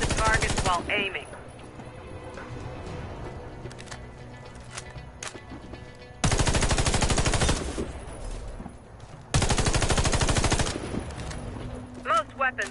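Rapid bursts of rifle fire aimed at a target in a video game, several loud automatic volleys separated by quieter stretches, one short opening burst and two long sustained strings later on.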